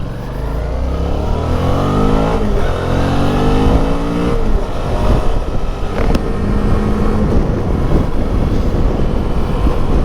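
A 2019 Suzuki V-Strom 650 motorcycle accelerates away on a country road. The engine is loud and close, rising through the gears with a steady roar and wind noise.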